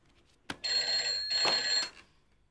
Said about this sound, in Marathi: यावेळी फोन आला तर तो मीच घ्यायचा